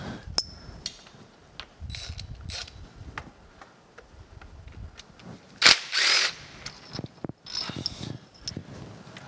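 A power driver fitted with a screwdriver bit works screws out of a Kearney & Trecker 2H horizontal milling machine, giving sharp ticks and clicks, then a loud short whirring burst followed by a second one.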